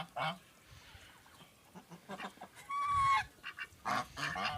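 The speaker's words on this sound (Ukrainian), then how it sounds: "Такий в нас гусак і гусиня." A gander and goose honk repeatedly at close range in irregular bursts, a few loud calls standing out, with some soft talking in between.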